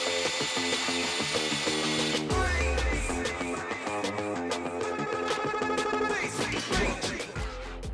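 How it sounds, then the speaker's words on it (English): A drill with a spot weld removal bit cuts out a spot weld on a Mazda Miata's factory sway bar mount, giving a loud, steady, close metallic whine that shifts in pitch partway through as the bit bites. "We'll drill out the spot weld with a special spot weld removal bit."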